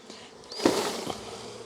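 Nurse bees buzz around an open hive, a soft, close hum that swells briefly midway with a few faint taps, no voices present.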